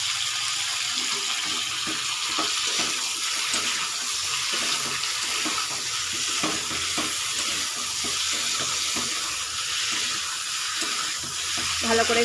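Spices and ginger paste fry in a pan for Bengali shukto, a dense continuous sizzle with rapid stirring and scraping, close up and steady throughout, with no voices.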